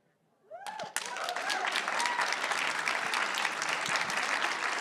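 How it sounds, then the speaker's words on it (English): Applause from an audience in a room at a live conversation event breaks out after a brief quiet moment, then holds as a dense, even roar of clapping hands, fairly distant and unbroken. "I hope you can hear the applause for you."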